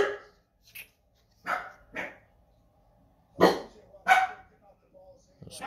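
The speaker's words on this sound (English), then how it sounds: "The dogs think somebody's coming to the door. Sorry, they're going crazy again." Dogs indoors bark sharply in a few separate bursts as they react to a possible visitor at the door, close and fairly loud against a quiet room, with brief gaps of silence between barks.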